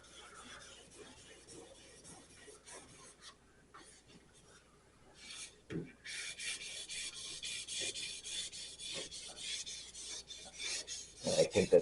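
Car paint on a Corvair is hand sanded without a sanding block, giving a close, steady rasping scrub that stays quiet at first and grows louder and more continuous partway through.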